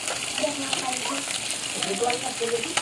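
Garlic paste sizzles in hot oil in a home kitchen pan, a soft continuous crackle with someone talking over it.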